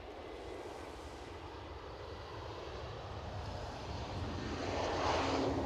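A fixed-wing airliner at Edinburgh Airport gives a steady, broad engine roar that swells louder toward the end, with no talk over it.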